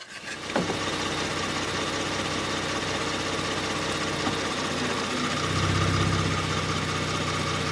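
A 2019 Kia Stinger engine idles steadily at a mid pitch, a continuous close hum that deepens slightly near the end as the transmission is run through the gears to heat its fluid.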